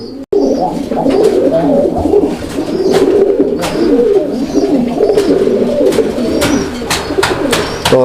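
Raj golla domestic pigeons, a breeding pair for sale, coo continuously in low rolling phrases, close and loud, with occasional sharp clicks and background noise but no speech.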